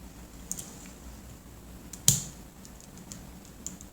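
A single sharp click sounds as the release button on a stainless steel watch strap of a Fossil Gen 5 smartwatch is pressed, faint surrounding ticks and handling noises in a quiet room.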